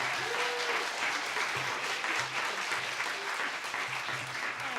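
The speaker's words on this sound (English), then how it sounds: "Would you please join me in a round of applause to Robin?" Steady, loud applause from a sizeable crowd at a Poetry Out Loud county final fills the whole stretch without a break.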